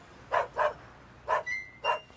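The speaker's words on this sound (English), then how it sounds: "I hear a dog barking." A dog barks four times in short bursts, two quick barks, a pause, then two more, fairly close against a quiet background.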